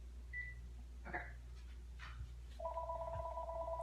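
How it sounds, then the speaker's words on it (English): A landline telephone in a quiet room starts ringing with a faint warbling electronic tone that rises to a steady ring near the end, over low room hum with a few soft knocks. "My phone's ringing."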